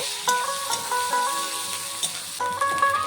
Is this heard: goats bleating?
no